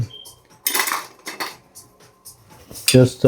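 A spoon stirring a drink in a glass, a few quick bursts of metallic clinking and scraping separated by short pauses, close and loud.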